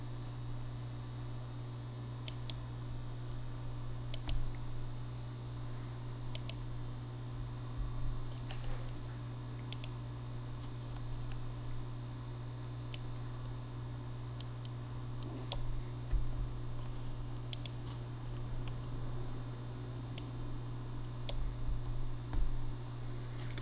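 Computer mouse clicking as images are selected and edited, with sharp isolated clicks scattered unevenly over a steady low electrical hum, quiet and close.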